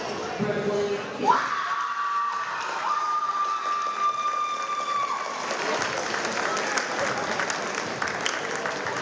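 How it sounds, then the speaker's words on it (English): A gymnasium crowd at a boys' high school basketball game applauds and cheers steadily for about nine seconds, a dense wash of clapping with a whistle-like tone early on and scattered shouts. "one more round of applause"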